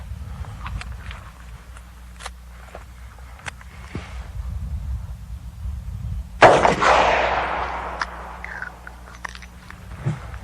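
A single sharp gunshot from a .38 revolver loaded with 110 grain jacketed hollow point Super Vel rounds, one loud close crack with a short decaying tail over quiet outdoor background.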